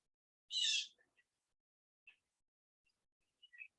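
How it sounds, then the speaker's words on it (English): Blue jays call on a morning outdoors, one loud harsh call followed by a few faint, scattered chirps in near silence. "We have the blue jays serenading us this morning, not the robins."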